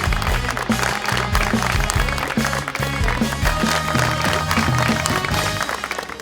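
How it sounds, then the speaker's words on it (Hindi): A studio audience on a Pakistani talk show claps continuously and loudly in welcome as guests arrive, with music playing underneath throughout. "बहुत सारी तालियों में वेलकम करेंगे जनाब ज़फ़री खान साहब को"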